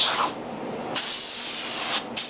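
HVLP spray gun hissing as it coats wooden doors with conversion lacquer, a short burst, a pause, then a longer continuous spray pass and a brief stop, close and loud without speech.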